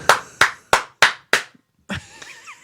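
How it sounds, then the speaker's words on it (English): One man clapping alone, five sharp, evenly spaced claps close by, then a pause and a few softer sounds. "giving her the one man applause"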